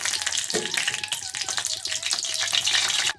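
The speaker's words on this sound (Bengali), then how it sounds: "সামান্য পরিমাণে কালো জিরে ফোড়নগুলো খুব সুন্দরভাবে ভাজা ভাজা হওয়া পর্যন্ত আমরা এভাবে নাড়তে থাকবো" Black cumin seeds fry and get stirred in hot oil in a pan for a Bengali jhinge aloo posto dish, giving a steady close sizzle with crackling pops and scraping stir sounds throughout.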